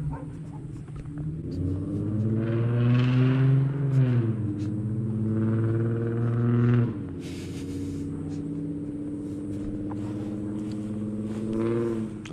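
Infiniti G35 engine with a newly installed Y-pipe revving hard, a loud deep exhaust drone climbing in pitch, dropping back, and rising again near the end, close and steady, with no talk over it.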